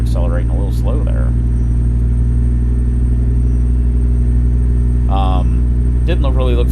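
A truck engine in American Truck Simulator drones low and steady as it pulls slowly uphill, a loud constant rumble with someone talking over it in short bursts.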